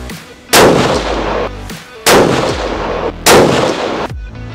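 Three loud, close rifle shots ring out at even intervals, fired through a 6mm/223 muzzle brake, each a sharp blast with a decaying boom and no talking.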